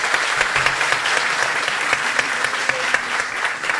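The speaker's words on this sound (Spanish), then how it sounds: "Un fuerte aplauso, gracias, para Van der Lake" A live comedy show audience applauds loudly and densely for a performer, a continuous, close, uniform wash of clapping with no pause throughout.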